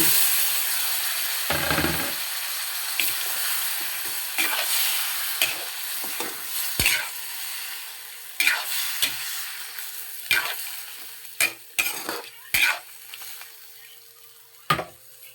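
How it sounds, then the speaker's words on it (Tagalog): Shrimp tipped into a hot pan of butter and garlic for Filipino butter garlic shrimp set off a loud, steady sizzle that gradually settles, broken by sharp clicks and taps from a utensil against the pan, close by with no talking. "So, ibuhos na natin yung ating hipon."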